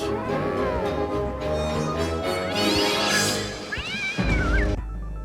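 A cat in the opening scene of Batman Returns lets out several drawn-out, wavering meows close by. The meows rise above a dense orchestral score and end in a final strained yowl.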